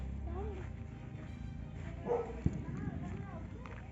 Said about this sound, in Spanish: los perritos de los comandos, ¿no? Antiexplosivos, antinarcóticos